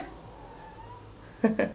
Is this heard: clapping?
no